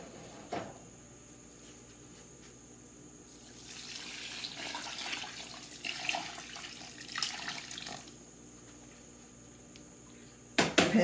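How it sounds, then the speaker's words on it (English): Hot water pours onto a felted knitted piece in a soft, close splash and trickle lasting several seconds, with quiet handling knocks before and after. "So I'm going to go ahead and pour the hot water in on this felted piece"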